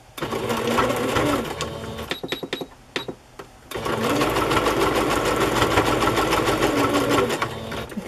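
Sewing machine stitching small balls onto fabric tags for a lace journal, a fast steady mechanical whir that runs, breaks into a few short stuttering bursts with brief pauses, then resumes as a long continuous run close by.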